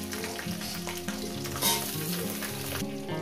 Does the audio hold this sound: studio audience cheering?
no